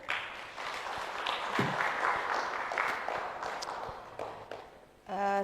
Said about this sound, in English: A big clap for Professor.